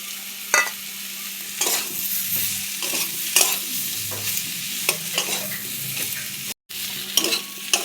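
Salt, turmeric, cumin and coriander powders fry in a pan while being stirred, giving a steady close sizzle broken by repeated sharp scrapes of the spatula, with no voices.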